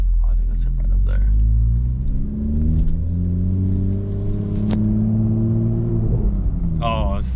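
A Toyota A90 Supra pulling in, a close, steady low engine rumble with shifting pitch that rises near the end, while people talk over it and birds chirp faintly.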